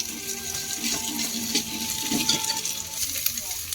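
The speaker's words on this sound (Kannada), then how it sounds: "ಈಗ ಶುಂಠಿ ಬೆಳ್ಳುಳ್ಳಿ ಪೇಸ್ಟ್ ಫ್ರೈ ಆಗಿದೆ." Ginger garlic paste fries in a pan for a cauliflower pulao, giving a steady close hiss and crackle with a few louder scraping bursts throughout.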